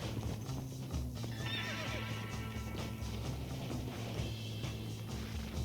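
Horses pulling a prison wagon in Red Dead Redemption, with steady hoof clip-clop, a whinny, and rolling wagon noise throughout at moderate volume.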